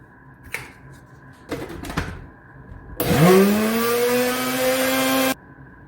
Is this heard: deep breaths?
no